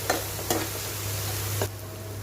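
Cumin, ginger and green chili spices fry and sizzle in a pan with a steady crackle, broken by a few sharp stirring scrapes; no one speaks.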